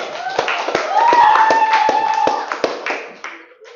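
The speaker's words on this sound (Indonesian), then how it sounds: "Tepuk tangan untuk kalian semua." Students in a classroom clap for their classmates' work, a scattering of sharp, uneven hand claps over several seconds mixed with voices and chatter nearby.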